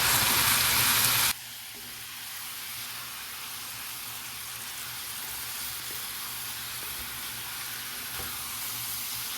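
Concentrated tomato paste stirred into a sizzling pan in a rural Sicilian kitchen, with steady close frying hiss and faint stirring, starting with a louder burst before settling into an even sizzle with no talk.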